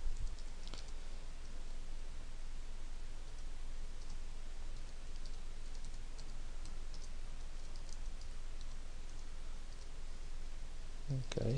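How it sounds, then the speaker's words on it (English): Keyboard typing while entering C++ code on a computer, a faint, steady patter of small clicks running through the whole stretch with no voice over it. "if I can type that right."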